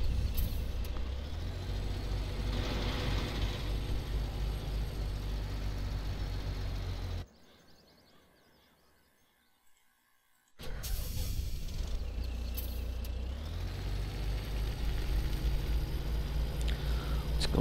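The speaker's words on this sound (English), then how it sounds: "Object being this truck." Truck in the video game Farming Simulator 17, a low, steady engine drone with a rising mechanical whine. The noise drops away briefly in the middle, then resumes at full strength.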